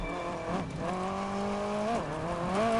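Car engine in The Crew 2 racing game, a steady roaring drone with rising and falling pitch through gear shifts, close and continuous with no talk.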